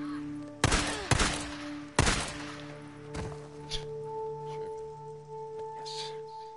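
Sniper gunfire in a post-apocalyptic action video game: three loud, sharp shots in the first two seconds, followed by quieter thuds and distant shots over a steady humming background.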